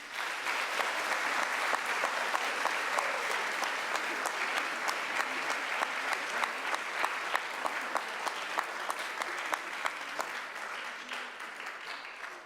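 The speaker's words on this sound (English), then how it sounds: "Please give one more round of applause for all the new inductees" A ceremony audience of parents, siblings and friends applauds new National Honor Society inductees, a long, steady roll of many hands clapping, with individual sharp claps standing out as it gradually thins toward the end.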